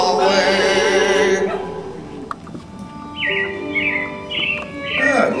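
Robin chirps from the Carousel of Progress animatronic stage show at Walt Disney World: a string of bright, repeated tweets in quick succession, following a short sung passage at the start.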